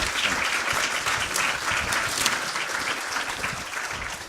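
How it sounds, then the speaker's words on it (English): Audience at a patient advocacy summit giving a full round of applause, dense steady clapping from a crowd, close and sustained. "So how about a big round of applause for these gentlemen?"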